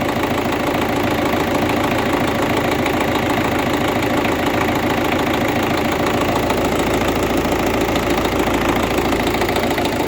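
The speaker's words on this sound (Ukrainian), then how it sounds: "працює двигун." A steady engine idles close by, a continuous rumbling drone with a faint knocking texture running evenly throughout, no voices.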